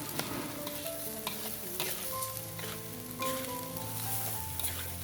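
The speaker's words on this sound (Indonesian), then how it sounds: "untuk nasinya kita tumis di sini supaya agak smoky gitu" Rice stir-fries in a hot wok, a steady sizzle under repeated scraping and clinking of a spatula as it is stirred, with faint background tones.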